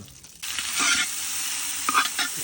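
Onion and carrot dropped into hot lard in a cauldron over a grill, bursting into a loud, close, hissing sizzle after a brief quiet start, with a couple of stirring scrapes near the end.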